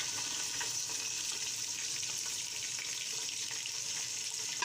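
Chicken pieces going into reddened frying onions in a pot for chicken pulao, giving a steady, close, loud sizzle with a hiss that holds even throughout, no voices.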